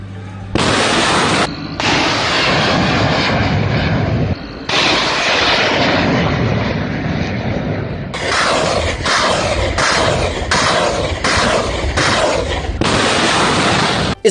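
Iranian warning shots fired, a long barrage of loud sustained gunfire and blasts that cuts out briefly and returns in repeated bursts, with a roaring engine-like rumble throughout.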